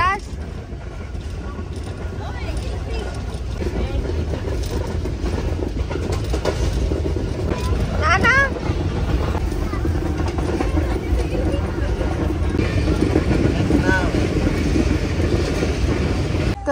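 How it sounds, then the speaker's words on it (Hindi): A moving passenger train rumbling steadily throughout, a loud continuous low roar with faint squeals and clatter on top, and people talking in the carriage. "ट्रेन चलना शुरू होती है"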